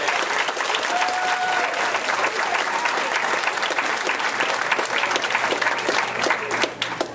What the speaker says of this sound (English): give a round of applause to your family and friends for their encouragement and help